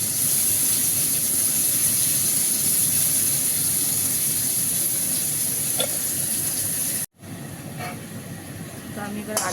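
Onions browning in hot oil in a pan that has just been used for frying potatoes, giving a loud, steady sizzle that cuts out briefly near the end before the frying resumes with some stirring.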